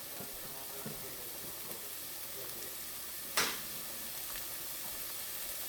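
Onions sautéing in a pan alongside cooked mushrooms, a faint steady sizzle with soft scattered stirring taps and one brief sharp clack partway through, no talking.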